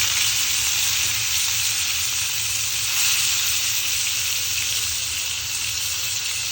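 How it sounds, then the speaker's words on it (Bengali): Fish frying in oil in a pan gives a loud, steady, dense sizzle that runs without a break for the whole stretch, with no voices over it. "চুলায় প্যান বসিয়ে তেল দিয়ে দিয়েছি। এখন আমি মাছগুলো দিয়ে দিব।"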